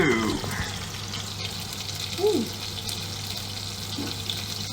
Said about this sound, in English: the meatballs are nicely frying away